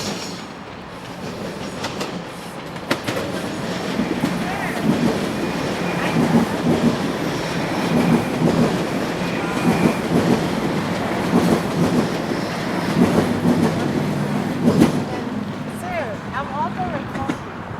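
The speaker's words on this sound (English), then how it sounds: "because it also spans the subway line itself," Toronto subway trains rumble past below a linear park bridge, a steady rolling roar with rhythmic wheel clatter lasting throughout and a brief wheel squeal near the end, with faint voices in the background.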